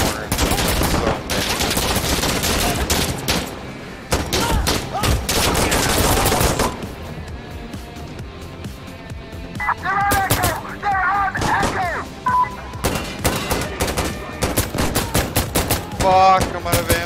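Insurgency Sandstorm firefight, with dense loud bursts of automatic gunfire and repeated rapid shots coming in clusters, pausing briefly, then resuming alongside game sounds.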